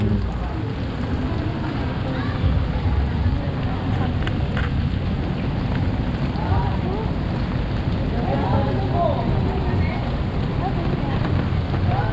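Heavy rain falls with a dense, steady patter and hiss at an outdoor stop in the Philippines, continuous and fairly loud, with faint voices and background activity mixed in.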